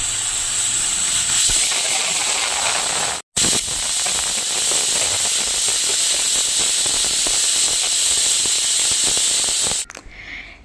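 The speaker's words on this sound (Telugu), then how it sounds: "సో ఇవైతే తాలింపు పెట్టేసాలి ఇప్పుడు." Drumsticks (munakkaya) being tempered in hot oil make a loud, continuous sizzling hiss that holds nearly unbroken for about ten seconds, with one brief cut near the start and an abrupt stop at the end.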